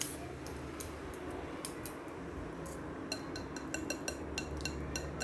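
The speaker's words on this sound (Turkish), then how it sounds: "Çırpma telimizin ucundakileri de böyle bir kaşık yardımıyla aldırıyoruz" A spoon scrapes batter off the tip of a wire whisk in a kitchen, producing a run of quick, light metallic ticks and clicks over a low steady background hum.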